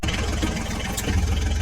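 A toy tractor's engine hums steadily and continuously, a low mid-pitched motor drone running without pause and with no talking.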